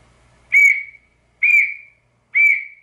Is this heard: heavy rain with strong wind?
no